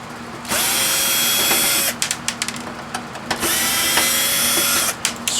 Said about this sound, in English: Let me just get all the screws out.